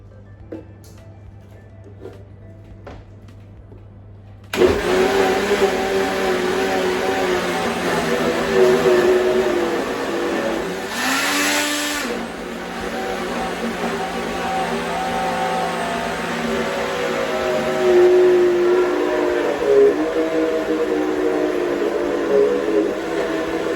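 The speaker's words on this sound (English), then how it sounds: "I already added some beans into my pressed blender, and I'll be blending this now" Blender blending soaked beans with onion and pepper and a little water, starting abruptly with a loud steady motor whir that shifts pitch slightly as the mixture churns, running continuously to the end.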